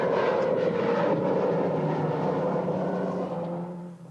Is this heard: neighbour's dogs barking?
no